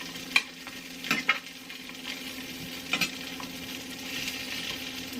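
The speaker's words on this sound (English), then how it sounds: "stir this up some" Food frying in a pan with a low steady sizzle, stirred several times so that short scraping and clinking utensil sounds stand out above the hiss.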